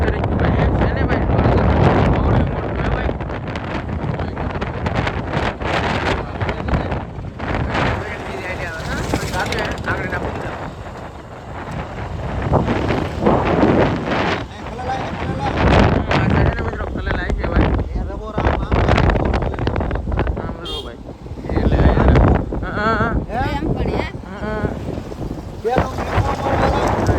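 Strong wind buffets the microphone in loud, continuous gusts that rise and fall over the whole stretch, with someone talking now and then.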